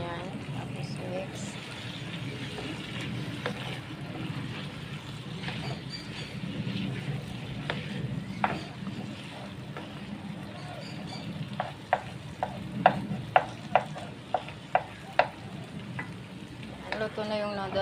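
Noodles for Indonesian mee goreng being stirred in a frying pan, a low steady sizzle with scattered scraping clicks of the utensil growing more frequent toward the end, while a person talks over it.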